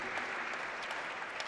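A crowd claps steadily at a religious discourse, a continuous close wash of applause from many hands with no voices over it.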